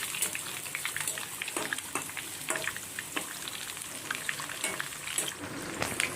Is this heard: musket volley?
no